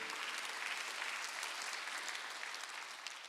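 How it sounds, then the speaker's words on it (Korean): A church congregation applauding during a Thanksgiving Sunday worship service, a soft, steady wash of many hands clapping heard from a distance, with no voices over it. "박수 하세요."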